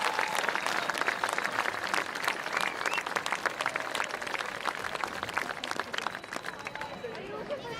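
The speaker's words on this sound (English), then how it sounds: "Once again, a big round of applause for all of our inductees" Applause at a Belding High School Athletic Hall of Fame induction, held at a football game against Holland; a large crowd claps steadily and loudly throughout, with some voices and cheers mixed in.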